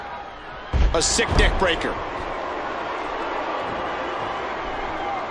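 A crowd roars and cheers in the WWE '13 wrestling game, with loud thuds from a brief ringside impact and someone commentating over it. The crowd noise then settles into a steady murmur.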